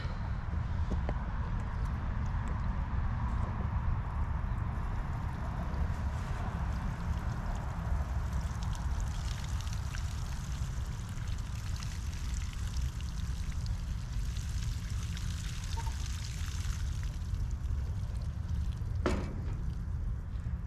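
Dandelion greens rinsed under running water, a steady rushing pour that stays loud and even throughout, with faint handling noises mixed in.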